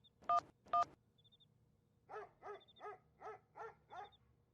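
A phone number is dialed, with two quick, sharp keypad beeps followed by a run of six softer, evenly spaced pulsing tones, faint and alone.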